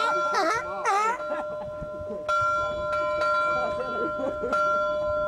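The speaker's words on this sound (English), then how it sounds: "hear that bell?" A bell rings with a steady, sustained tone, struck again a few times, under background noise and some vocal cries early on.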